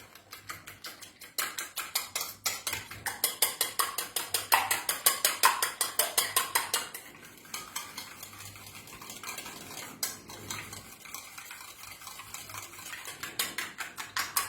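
Egg beaten with milk and a little icing sugar for French toast, whisked in a bowl as a rapid, even clatter of close metal ticks that pauses briefly midway, then resumes more softly.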